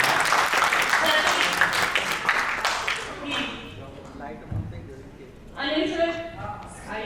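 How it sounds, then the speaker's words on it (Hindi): Applause from an audience at a company's annual celebration, a burst of clapping that fades as a voice speaks over it. "तालियां हो जाए"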